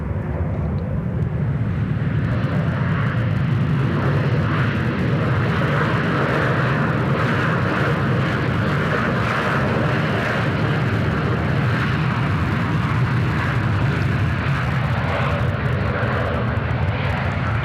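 A passenger jet landing at Sydney Airport, heard from a nearby boat ramp as a loud, sustained, rumbling engine roar that fills the whole stretch, with no talk over it.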